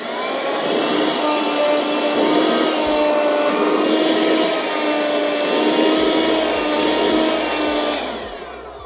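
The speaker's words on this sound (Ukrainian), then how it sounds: "Зараз давайте під'єднаємо живлення 12 вольт і послухаємо, як буде працювати пилосос" A small Bottari Easy Cleaner 12V 48W car vacuum cleaner motor whines loudly and steadily for several seconds, a constant high-pitched whirr with faint low clicks near the end.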